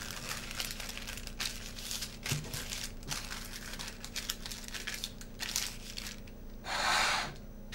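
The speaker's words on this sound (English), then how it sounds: "Then fold the paper into a triangle and then again into a smaller triangle." Sheet of greaseproof paper being folded into a triangle and again into a smaller one, with close, crisp crinkling and crunching in irregular bursts and one louder rustle near the end.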